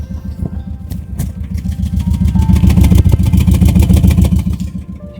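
An ailing Volkswagen engine runs with a rough, clattering idle and swells into a revving surge before settling back, close by with no voices.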